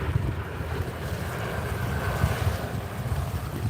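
Water surging in at an outdoor shoreline under blustering wind, a loud continuous roar with heavy wind buffeting on the microphone and low churning surf, no voices.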